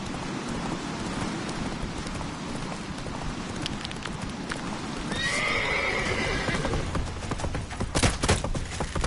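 Roach the horse gallops through a rainy scene in The Witcher 3, with steady close hoofbeats under falling rain and a whinny partway through, then louder clattering near the end.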